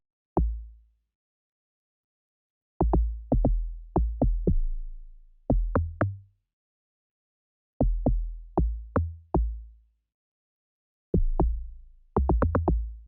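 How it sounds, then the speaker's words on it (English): Deep, booming amapiano log drum hits with sliding low tones, played in short syncopated bursts separated by pauses, with no other instruments. "So next up, we'll be moving directly to our Logdrum"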